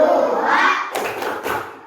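Children in a classroom chant a prime-number clap rhythm, then three sharp, close hand claps ring out at a quick, uneven pace as the voices fade.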